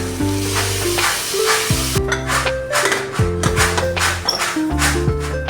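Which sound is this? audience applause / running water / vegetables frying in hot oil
vegetables frying in hot oil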